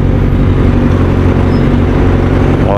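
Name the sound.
road traffic near a market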